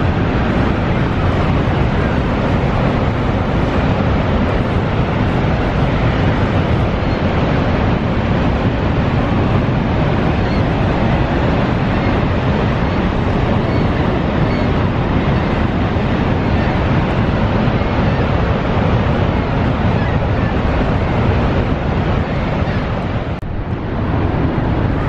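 Niagara's Horseshoe Fall roars steadily and loudly, a dense, unbroken rush of water with wind buffeting the microphone.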